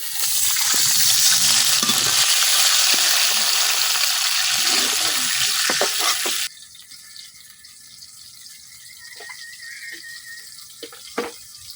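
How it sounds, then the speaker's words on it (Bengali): Onion and garlic sizzle loudly and steadily in a pan in a village kitchen, then the sound drops abruptly to a quieter bubbling hiss once a little water is added, with a few small clinks near the end. "পেঁয়াজ রসুন বাঁধা হয়ে গেছে, এখন আমি অল্প একটু পানি দিয়ে দিলাম।"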